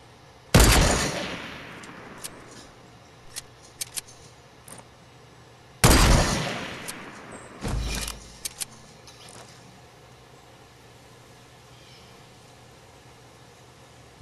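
Two loud, sharp sniper rifle gunshots crack about five seconds apart, each followed by a long rolling echo over an open outdoor range, with a thud and a few faint clicks in between.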